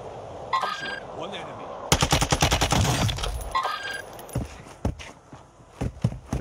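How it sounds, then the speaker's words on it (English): Gunfire in Warzone 2 crackles in a sustained rapid automatic burst, then scattered single and short shots follow, mixed with footsteps and faint voices, close and sharp. "Shots."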